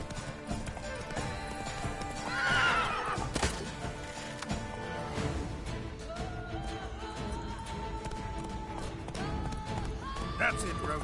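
Roach, the horse in the Witcher 3 video game, galloping with rapid hoof clip-clops and a whinny over a dense game soundscape, while a person talks over it.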